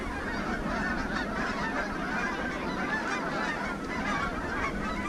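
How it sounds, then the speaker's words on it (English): A flock of Canada geese honks along a river walk in Canon City, Colorado, while landing on the water. The calls sound distant and repeated, partly buried under steady outdoor wind noise. "These are a bunch of Canadian geese."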